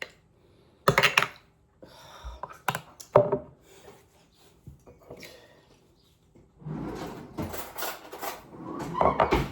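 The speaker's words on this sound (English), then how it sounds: "just get all mixed at the bottom here. Mayonnaise at the bottom. Get all mixed." Clinks and scrapes from a fork or spoon stirring mayonnaise-based homemade In-N-Out style sauce in a bowl, coming in irregular bursts close by, with a steadier patch of scraping toward the end.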